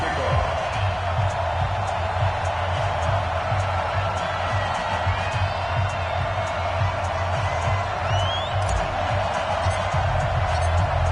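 Stadium crowd noise in an EA Sports football video game before a New York Jets versus Washington Redskins matchup, a steady loud roar with scattered cheers throughout.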